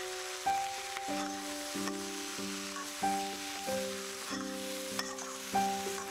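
Cooked chicken for a spicy chili fries in a pan with spices and spring onion, giving a steady low sizzle that runs through the whole stretch beneath louder background music.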